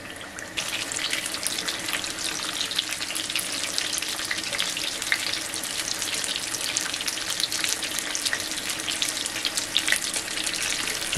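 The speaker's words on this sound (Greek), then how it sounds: "περιμένουμε να τηγανιστούν" Dough fried in hot oil gives a steady, dense sizzle and crackle that goes on without a break, fairly loud and close, with no voices.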